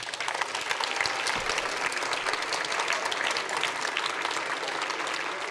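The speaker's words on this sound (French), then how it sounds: "que vous pouvez applaudir très fort." A school audience at a Montreuil high-school eloquence contest applauds the jury with dense, sustained clapping that stays loud and even from start to finish.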